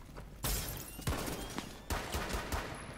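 Bursts of gunfire from the shooter game Rainbow Six Siege, loud and close: several heavy volleys and rapid shots with short gaps between them and no voices over the top.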